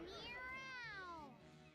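A character in Tales of Berseria voices an imitation of a cat, a single drawn-out, rising-then-falling meow performed clearly and up close by a human voice.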